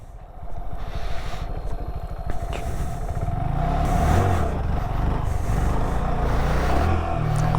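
A motorcycle engine revs during wheelie stunt practice, a loud, continuous drone that builds and holds steady, close by, with no voices.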